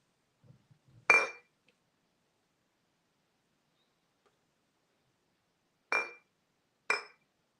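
Anchor Hocking and Hoosier glass pieces clink together in three sharp, bright knocks, one near the start and two close together later, with quiet handling between them.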